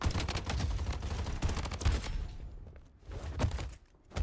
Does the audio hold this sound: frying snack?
no